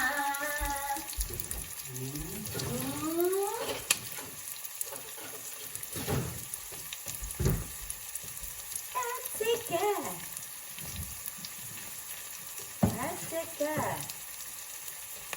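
Onions fry and sizzle in a pan with a steady hiss, while a voice speaks in short bursts over the cooking noise.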